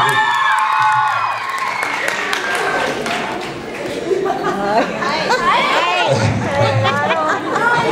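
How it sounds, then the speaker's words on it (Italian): A lively crowd cheers and claps, with whoops and excited voices over a dense roar of chatter, loud and close. "c'è anche il tifo da stadio"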